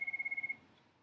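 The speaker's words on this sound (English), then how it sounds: "sorry about the phone there" A telephone rings during a precalculus lesson: a bright electronic tone pulses quickly about ten times, then cuts off, leaving a quiet room.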